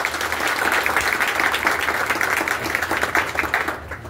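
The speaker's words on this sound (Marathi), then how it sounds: "कौशल म्हात्रेसाठी जोरदार टाळ्या." An audience at a Republic Day unity rally applauds loudly and continuously, a dense wash of many hands clapping at steady strength throughout.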